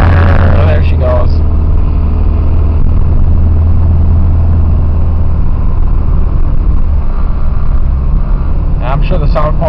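Car engine droning heavily and laboring while stuck in second gear, loud and close and steady throughout, with a person speaking over it at the start and end.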